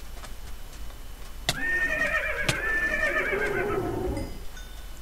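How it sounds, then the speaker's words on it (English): A loud, horse-like whinny cries out after a sharp click, wavering and trailing off over a few seconds, with faint clicks around it. "They sound like a horse"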